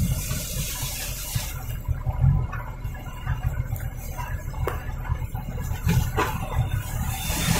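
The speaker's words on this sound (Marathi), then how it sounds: "एवढं पाऊस पडलाय" Monsoon rainwater flows steadily outdoors, a continuous loud rushing and splashing wash with a low rumble beneath, no talking.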